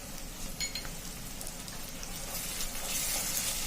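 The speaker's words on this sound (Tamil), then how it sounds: "இஞ்சி பூண்டு பேஸ்ட் போட்டு கொஞ்ச நேரம் அந்த பச்சை வாசம் வந்து வதக்கலாங்க" Ginger garlic paste sizzles steadily in a hot pan with onions and green chillies for tomato rice, a constant crackling hiss with light stirring that grows slightly louder toward the end.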